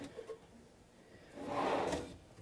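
A slide-out drawer in the adjustable-shelf pantry of a Vita 24F RV glides open or shut in one smooth, fairly close rolling sweep, with a couple of faint knocks just before it.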